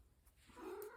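Pet cat giving a short, faint meow indoors, a single drawn-out call rising toward the end over quiet room noise.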